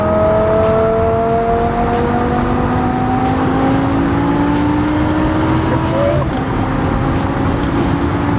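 A tuned, non-stock BMW E60 M5 or Mercedes C63 AMG accelerating hard on a highway, engine note climbing steadily through the revs in loud, continuous in-cabin drone with a people faintly talking over it.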